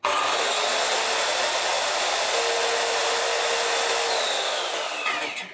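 A Dongcheng DMY185 circular saw, 220 volt and 1100 watt with a 185 mm blade, runs free at full speed with a loud steady whine, then spins down at the end.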